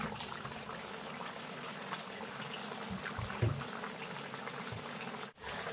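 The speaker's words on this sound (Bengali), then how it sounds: "দিয়ে মশলা দিয়েও কিন্তু আমি খানিকক্ষণ ফুটিয়ে নেব" Mango and jaggery pickle with spices simmers in a pan, giving a steady, soft bubbling hiss throughout with a few low pops, fairly close and even in level.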